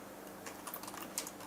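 Quiet, steady clicking of keys on a computer keyboard, with a few sharper taps, heard alone at low level.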